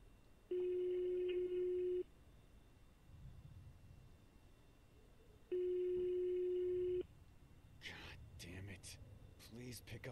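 Telephone rings in a horror video game, two long electronic ring bursts separated by a pause, loud and clear, followed by background noise and faint movement.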